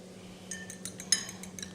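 A utensil stirs food with a little salt in a pot, giving a string of light metallic clinks and scrapes, close and fairly quiet, without talk.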